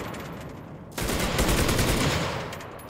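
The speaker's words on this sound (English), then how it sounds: "Again, I fire just as they spawn." A burst of gunfire in the World War II shooter Enlisted at Stalingrad: a sudden loud rattle of overlapping shots lasting about two seconds, then tapering off.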